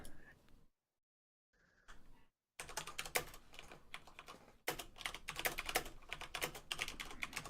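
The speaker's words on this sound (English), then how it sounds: "I'm just typing him a message on the Facebook page." Rapid, uneven clatter of keys as a message is typed on a computer keyboard, close and fairly loud, starting with a few short bursts and gaps before settling into continuous busy typing.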